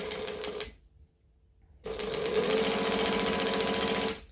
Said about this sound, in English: we're going to stitch it together